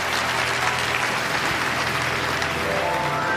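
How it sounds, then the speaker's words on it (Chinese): A studio audience at a Chinese relationship talk show claps in dense, steady applause that holds evenly throughout, with no one speaking over it. "来，掌声欢送他啊。"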